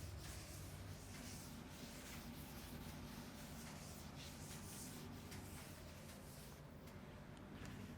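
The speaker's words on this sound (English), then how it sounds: "Now I am going to rub this part and we'll discuss the next question." A duster rubs writing off a board during a chemistry lesson, making a faint, continuous scrubbing that stays steady throughout with no pauses.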